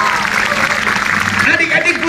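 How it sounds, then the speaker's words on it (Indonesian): A congregation at an evangelistic revival service in Tanjung Haloban claps in a short burst. Loud voices talk and cheer over the applause. "Berikan tepuk tangan yang meriah buat Tuhan."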